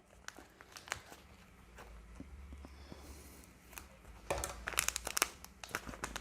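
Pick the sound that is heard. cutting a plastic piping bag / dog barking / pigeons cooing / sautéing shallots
cutting a plastic piping bag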